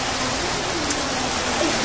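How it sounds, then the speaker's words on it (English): Heavy rain falls outdoors, a dense, steady hiss of drops striking surfaces all around, close and loud with no pauses. "It's raining."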